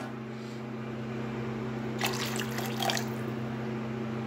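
Water splashes into a simmering chital fish curry gravy in a short burst of about a second, set against a low, steady kitchen hum.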